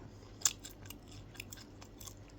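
Someone chews crispy fried squid close to the mic, producing faint, irregular crunches and soft biting clicks, one sharper crunch near the start, with no talking.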